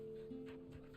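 A dog whimpering while being petted in Final Fantasy XVI, a short faint whine and soft pant heard close, low in level against a steady game hum.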